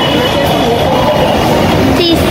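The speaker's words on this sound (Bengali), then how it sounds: "আজকে আমরা মেট্রোতে আসছি।" Steady rumble and hum of a moving metro train, with a constant drone and faint voices murmuring nearby.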